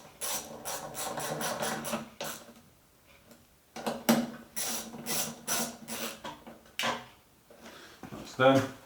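A ratchet tightens bolts securing the fuel tank on a 2016 Kawasaki ER-6F motorcycle, with rapid clicking bursts separated by short pauses, close and moderately loud.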